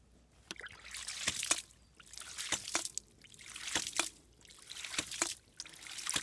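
Homemade ram pump running in East Sussex, with water trickling and splashing in soft repeated surges, interrupted by sharp clicking pulses at irregular intervals, fairly faint and close, without talk.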